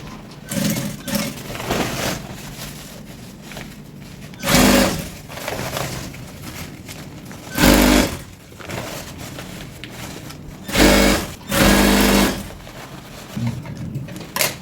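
Sewing machine stitching Ankara fabric palazzo pants, running in several loud bursts of rapid mechanical whirring separated by quieter pauses with faint handling of the fabric, close by, no talking.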